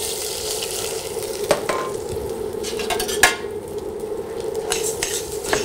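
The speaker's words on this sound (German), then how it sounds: "Beginnen werden wir, dass wir das Risotto mit etwas Olivenöl in der Pfanne anschwenken." Risotto rice sautéed with olive oil in a pan, a steady close sizzle broken by scattered scrapes and clinks of a utensil stirring against the pan.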